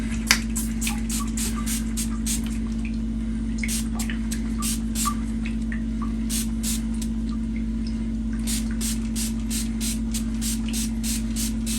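Cleaner sprayed onto a K&N reusable cabin air filter in rapid repeated bursts of hissing spray over a steady low background hum, close and fairly loud, without talk.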